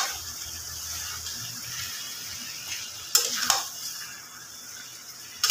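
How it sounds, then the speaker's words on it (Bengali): Chicken pieces stirred and sautéed in a pan for chicken kasha, with a soft continuous sizzle, faint scraping and a couple of sharper utensil knocks near the middle and end, close and fairly quiet. "এইবার আমি মাংসটা দিয়ে আবার একবার ভালোভাবে নেড়ে চেড়ে কষিয়ে নেব।"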